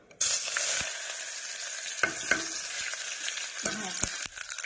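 Steady sizzling of onions frying in a hot kadhai, with a few sharp clinks and stirring scrapes breaking through the continuous crackle.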